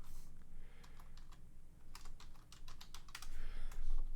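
Quick bursts of keystrokes on a computer keyboard, close and fairly quiet, coming in short irregular runs with brief pauses and no talking.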